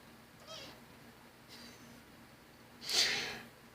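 Kittens give soft, faint meows, three short calls spaced about a second apart, with the last one louder and breathier, over a quiet room hum.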